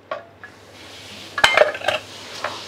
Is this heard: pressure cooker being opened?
yes